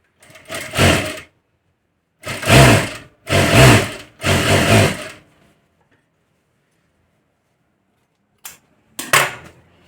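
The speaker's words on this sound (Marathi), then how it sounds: "तर इथून आपल्याला दाबटीप मारून घ्यायची आहे" Sewing machine topstitching along the lining side of a katori blouse, running in several short close bursts of fast even stitching with silent pauses between them and two brief final runs.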